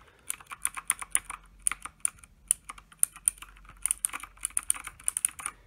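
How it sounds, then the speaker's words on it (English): Close-up typing on a Drevo Gramr 84-key mechanical keyboard with Outemu blue clicky switches: quick bursts of sharp, bright key clicks in uneven runs with short gaps between them. "I have never had the mechanical, the clicky switches before. So this is my first one. This is how it sounds like."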